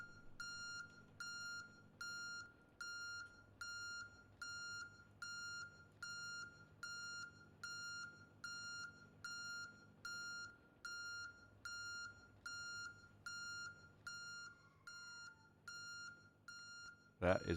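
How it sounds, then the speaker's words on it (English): A warning beep sounds in the PMDG 777 airliner cockpit in a flight simulator, a high electronic tone repeating in a steady rapid pulse for many seconds, fairly quiet, over a low hum of cockpit noise. "I got to change some volumes so you guys can hear the beep properly."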